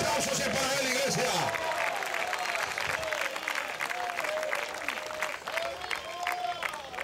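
A church congregation at a united Christian worship service in La Unión, El Salvador, applauds in a long, steady wash of clapping, with voices and cheering mixed in throughout.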